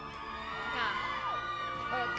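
A fan club cheers at an awards ceremony as an award is presented: a crowd of excited shouts, whoops and high-pitched cheering holds steady throughout, with a loud burst of yelling at the very end.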